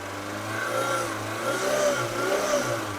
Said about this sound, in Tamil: அதை பாருங்க, ரேஸ் பண்றேன்.